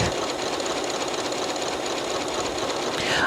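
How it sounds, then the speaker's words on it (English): A Janome Horizon 9400/9450 sewing machine runs on its own through a buttonhole, giving a steady, close, continuous mechanical whir with a fast stitching rhythm and no pauses. "once I hit start, it's just going to continue stitching all the way until it's done"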